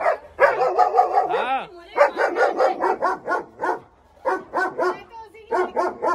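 German Shepherd barking in quick repeated bursts close by, loud and insistent with short pauses between volleys, including a brief whimper.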